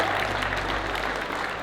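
A crowd at a YFC MMA fighting event claps for the fighters after a split decision, a steady wash of applause heard at a distance under arena hum.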